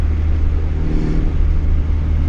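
A built single-cam Honda D-series engine revs hard and steadily up close, a loud continuous drone with a deep low-end rumble and dense harmonics that holds high rpm the whole way through.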